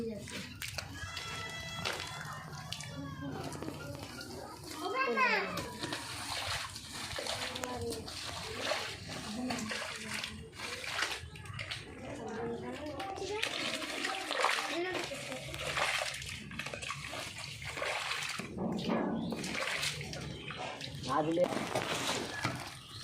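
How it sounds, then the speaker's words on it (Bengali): Water poured out onto a damaged village road splashes and splatters in repeated bursts throughout, mixed with other activity, while people talk nearby. "আবার জল দিলাম জল বেরিয়ে যাবে না।"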